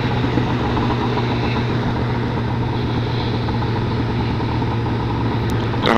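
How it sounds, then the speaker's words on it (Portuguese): A Yamaha XJ6 motorcycle engine runs at a steady idle, a continuous low droning hum with a firm, even rumble and no variation in pace, close and fairly loud. "A moto parece que tá bem mais redonda agora"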